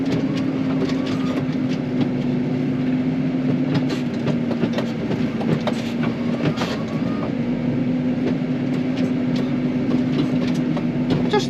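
A tractor crosses a damp field spreading granulated lime in light rain, its steady engine drone continuous and close, with a constant low hum and scattered rattling clicks throughout and no talking.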